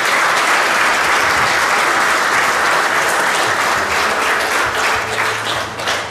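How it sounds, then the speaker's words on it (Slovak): Sustained, loud applause from an audience at a town sports awards ceremony, dense and even clapping continuing for about six seconds and tapering slightly near the end, with no talk over it. "Ešte raz potlesk pre Sebastiana Živčáka."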